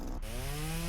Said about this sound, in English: Yeah, we got our chainsaw. Let's go.